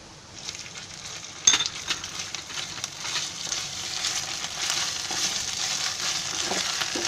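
Garlic ginger paste frying in a pan for mutton biryani, a steady close sizzle with occasional stirring scrapes and one sharp clack early on, and no talking.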